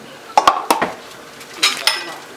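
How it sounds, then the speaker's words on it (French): A few sharp clinks and scrapes of a spoon against a cooking pot while lamb biryani ingredients with salt are mixed, irregular knocks in a quiet kitchen. "Et je mélange tout bien."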